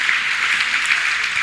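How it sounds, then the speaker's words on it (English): Church congregation clapping, a dense, bright burst of many hands applauding together, loud and steady throughout the short moment with no speech over it. "Clap mightily for Master Jesus."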